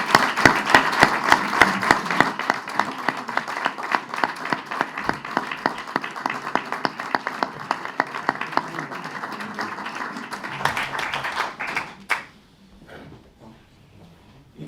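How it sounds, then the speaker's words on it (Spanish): Audience applause at a Holy Week brotherhood lecture on military musicians, starting as distinct rhythmic claps that thicken into steady clapping before stopping abruptly, followed by near silence. "Quiero pedir un aplauso para ellos."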